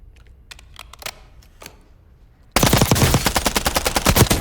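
A Bren 2 rifle chambered in 7.62x39 fires in Warzone, starting with scattered single shots and short bursts, then a loud sustained stream of rapid automatic fire close up.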